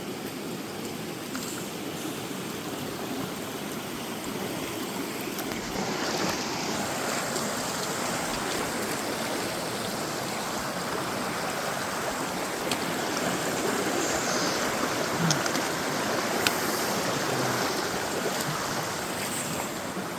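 Creek water at a hiking trail crossing on Little Stoney, a steady broadband rush of flowing water, close and constant throughout with no voices.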